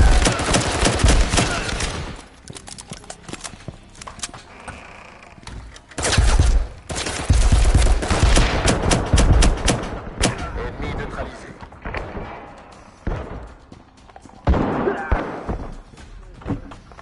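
Gunfire in the Firewall VR shooter game rings out in loud, repeated bursts and single shots over seventeen seconds, with shorter bursts and scattered impacts in between, mixed with game sounds and occasional talk.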